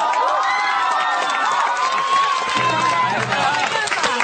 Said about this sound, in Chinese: 来，掌声给他鼓励。